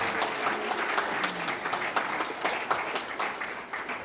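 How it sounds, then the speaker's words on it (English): An audience at a hula competition applauds a winning hula group, with dense, steady clapping from many hands that carries on throughout, with a faint voice beneath. "Let's give Kumukeli Sabalos a round of applause."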